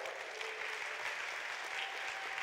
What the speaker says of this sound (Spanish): quiero que nuevamente le demos un gran aplauso